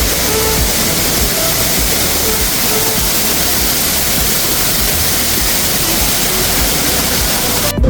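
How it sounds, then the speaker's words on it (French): A small waterfall at a training camp in Phuket, Thailand, giving a steady, loud broadband rush of falling water that holds unbroken throughout with no voices. "Bon, il y avait bien une cascade, mais elle est moins impressionnante que ce qu'on s'attendait."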